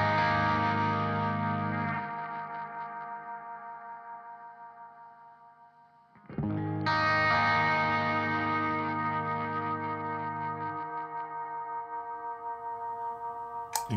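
Sustained, distorted guitar tones from a pedalboard feedback loop ring out with echoing reverb swells, fade down, then surge back loudly into a dense, droning wall of sound.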